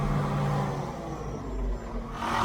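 A Ford TW30 tractor engine idles steadily close by, a low rumbling drone with a deep throb that holds even throughout, rising slightly in roughness toward the end.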